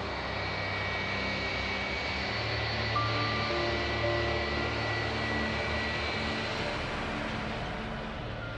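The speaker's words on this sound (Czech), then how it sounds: "Egyptský Boeing 737 vzlétl ještě před úsvitem." An Egyptian Boeing 737 jet airliner of Flash Airlines takes off before dawn over the Red Sea, a loud, sustained jet engine roar with steady whining tones that holds for several seconds.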